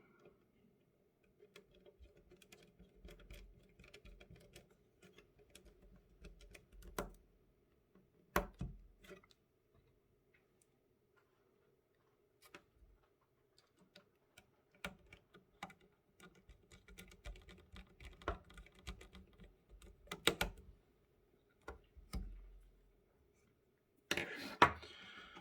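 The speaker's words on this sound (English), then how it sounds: "Put all 6 screws back." Small screws go back into an ASUS TUF 3090 graphics card, heard as quiet, close, irregular ticks, clicks and scrapes of a driver on metal with pauses between them.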